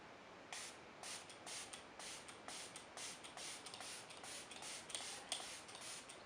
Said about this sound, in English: I'm just going to spray my face with Beauty Fix.